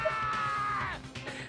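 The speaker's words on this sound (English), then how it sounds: "That was a good scream in my earbuds right there." A single scream from the video game Danganronpa, a sustained high cry that rises and then fades, heard fairly faintly over a low rhythmic background score.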